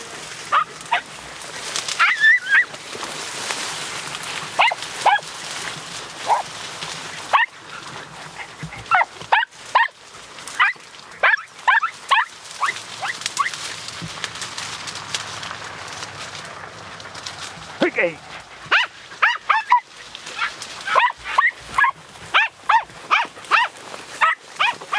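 Podenco hunting dogs yelp and bark in thick, thorny bramble scrub, with sharp, excited yips and whimpers coming in quick bursts, some near and some farther off.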